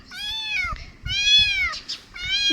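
A small kitten meows for its mother in three long, loud, high-pitched cries, close to the listener, with brief pauses and faint rustling between them.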